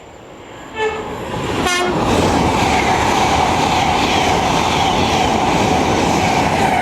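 A train on a Leeds to London King's Cross service on the East Coast Main Line at Retford sounds a short horn blast, then rushes past loud and close in a sustained roar of wheels and rail noise.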